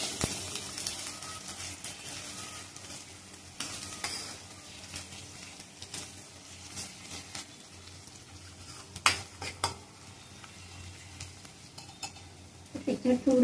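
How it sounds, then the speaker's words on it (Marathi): Onion and coconut paste fries with ginger garlic paste in a pan, a steady sizzle broken by spoon-stirring scrapes and occasional clinks of metal cookware, close up with no talking. "छान फ्राय करून घ्यायचं कांदा खोबऱ्याचं वाटण"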